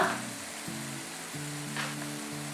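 Tomatoes, green chilies and coriander sauté in leftover oil in a pan for tomato coriander chutney, giving a steady, close sizzle throughout with soft tonal sounds behind it.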